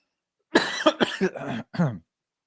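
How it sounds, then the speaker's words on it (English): A person coughs several times in a quick cluster, four harsh bursts close to the microphone, followed by silence. "I'm getting over a little bit of a cough here."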